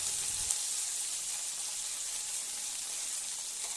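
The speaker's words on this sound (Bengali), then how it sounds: "এবার মশলা থেকে অয়েলটা সেপারেট হওয়া পর্যন্ত মশলাটা একটু কষে নেব।" Masala paste of tomato, ginger and garlic sizzling and frying in hot oil in a pan, a steady, fairly faint hiss that continues evenly throughout with no talking.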